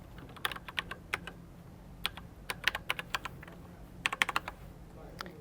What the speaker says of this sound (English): And then you will go back in and enter your username.